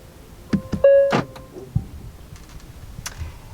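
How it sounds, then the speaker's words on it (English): A steady electronic tone hums briefly amid interior clicks and soft mechanical taps, the EV-mode pedestrian warning sound of a 2022 Hyundai Tucson Hybrid, close by with no one speaking. "that kind of sonar sound you're hearing is because right now we're in EV mode"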